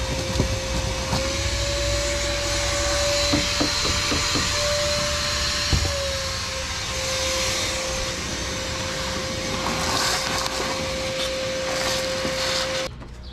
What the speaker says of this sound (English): We'll grab the shop vac and we'll clean everything up under here